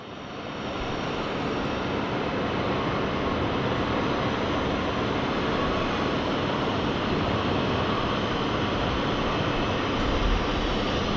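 Airliner engines on the runway at Sydney Airport produce a continuous, steady broadband roar that holds at a constant loud level.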